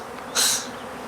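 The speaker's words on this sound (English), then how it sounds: "I'm getting eat up by bees for some reason." Bees buzzing close by on a porch in the early morning, a brief loud swell of insect drone that rises sharply and then fades back into a faint buzzing background.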